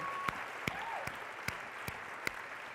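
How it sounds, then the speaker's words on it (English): An audience at a women-in-leadership event gives a steady wash of applause, with a few sharper isolated claps standing out at regular intervals and no speech. "Give yourself a round of applause for what you do."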